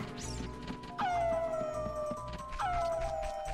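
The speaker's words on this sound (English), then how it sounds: "The dogs are drowning." Dogs in the video game The Legend of Zelda: Ocarina of Time howl and whimper as they drown, with two loud falling howls over busy game music and effects.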